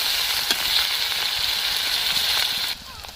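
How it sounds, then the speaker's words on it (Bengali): Ground onion paste fries in oil left over from frying fish kofta, making a steady bright sizzle with faint stirring clicks that cuts out near the end. "কোপ্তা ভাজা তেলেই আমি রান্না করে নেব এর মধ্যে আমি বেটে রাখা পেঁয়াজ দিয়ে দিয়েছি"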